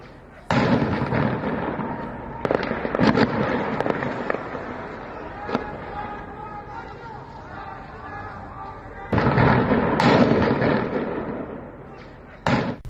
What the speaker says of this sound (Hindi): सरबले शहर में 2 घंटे तक फायरिंग होती रही।